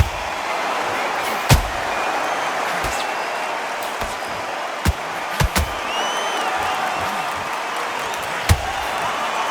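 Arena crowd in the boxing game Undisputed, a steady murmuring roar with occasional sharp thuds or slams cutting through at irregular intervals.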